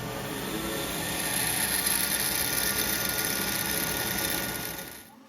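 Metal being drilled on a machine while working a cast flywheel for a hit-and-miss engine, stepping up through progressively larger drill bits after an eighth-inch pilot; a steady, loud, dense mechanical whir runs throughout with no talk, then cuts off abruptly at the end.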